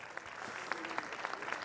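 Applause from a gala concert audience, faint and distant, scattered claps forming a soft continuous patter with a few sharper individual hits.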